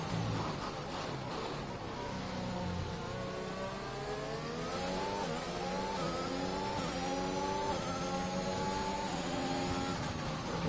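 Race car engine in the F1 21 racing game revs steadily, its pitch rising and falling through gear changes as a continuous loud whine, with no voices over it.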